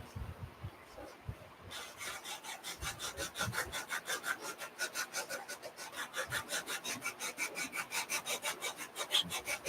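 A wooden Royal Game of Ur board being sanded or filed by hand, steady rhythmic back-and-forth scraping strokes, close and fairly regular, running for several seconds after a brief quieter start, with no talking.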